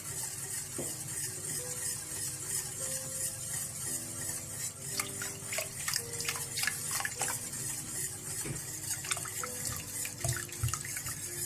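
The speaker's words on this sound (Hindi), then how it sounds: "इस तरह से आप थोड़ा थोड़ा दूध डालते जाएं।" Milk is poured a little at a time into a pan while cooking lasagna sauce, with a soft, faint liquid trickle and light stirring sounds, and no talking.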